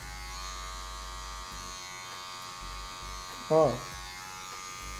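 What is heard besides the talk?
electric hair clippers fading hair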